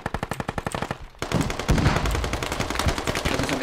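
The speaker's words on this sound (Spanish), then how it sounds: "me dieron disparos" Gunfire in the military shooter game Squad: a rapid, evenly spaced burst of automatic shots, a brief pause, then loud, continuous overlapping fire with dense cracks close up.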